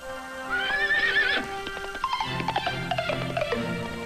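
A horse whinnies loudly and clearly, its neigh rising and wavering, then hooves clop in a quick galloping rhythm with a low rumble beneath, close and prominent with no talking.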